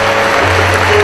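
Applause from a talk-show audience, a short steady burst of clapping that fills the room evenly, with a low hum running underneath.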